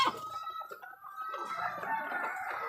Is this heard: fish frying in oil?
no